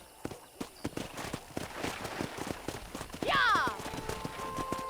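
Horse hooves clip-clop in a steady walking rhythm in Red Dead Redemption 2, the game's cattle-herding farm setting, close and clear, with a brief animal call or sound effect partway through.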